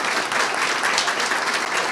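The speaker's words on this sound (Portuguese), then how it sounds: "Queria pedir a todos uma salva de palmas aos nossos painelistas." Dense, sustained applause from a conference audience for panelists at a Telebrasil session on citizen security, a full even wash of many hands clapping with no speech.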